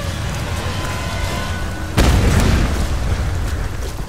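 A loud cannon blast in the Tomb Raider video game hits suddenly after a steady rumbling backdrop, a single heavy boom whose roar lingers and stays loud to the end.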